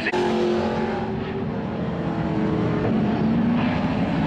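Race cars circle a short track, their engines a continuous loud drone with a pitch that shifts as cars pass and accelerate down the back straightaway, heard from a distance.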